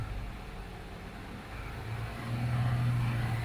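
A BMW M54 inline-six engine in an E46 330i accelerates, a moderate engine hum from inside the car that swells and grows louder with a rising tone in the final second.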